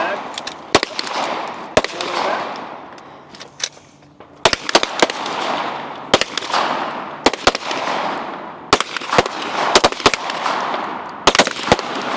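Pistol gunshots ring out at a shooting competition team stage, a target about 17 yards downrange, loud sharp reports in irregular bursts and doubles over a noisy outdoor background with a faint voice.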